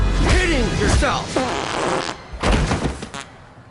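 A loud, raspy fart sound effect sputters in several bursts, mixed with voices talking.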